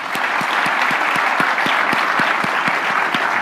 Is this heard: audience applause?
yes